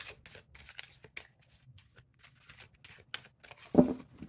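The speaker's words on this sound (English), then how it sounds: "Or you can overhand it this way." A larger-format tarot deck on thin, flexible cardstock being overhand shuffled, soft papery riffles and slides in quick bursts, ending with a sharper tap of the cards close by.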